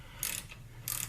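A relatively new 1/4 inch socket ratchet that no longer holds sockets well, giving two short bursts of close, crisp clicking about half a second apart in a quiet garage during Jeep TJ fender work.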